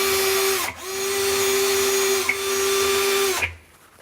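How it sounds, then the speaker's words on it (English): A power drill bores pilot holes into a cabinet through a template, three long loud whining runs, each ending with a short drop in pitch, then quiet. "then drill for your pilot holes"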